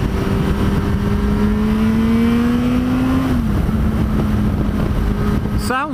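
Yamaha FZ6 600 motorcycle engine revs loud and close, its pitch climbing steadily then dropping and settling, with a sharp quick rev burst at the end.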